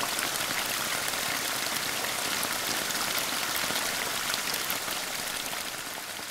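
A waterfall pours in a broad, dense hiss of rushing water, constant and loud from start to finish, close by with no voices.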